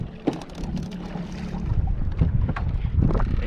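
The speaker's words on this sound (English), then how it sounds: "Motor's on" A fishing boat motor runs on a largemouth bass outing, a low steady drone close by, mixed with gusty wind noise and water splashes.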